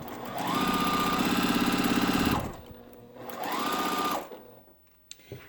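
A sewing machine stitches quilt blocks over pins in two close bursts, a fast rhythmic whirring rattle that ramps up, holds, then slows and stops, with a quiet pause between runs.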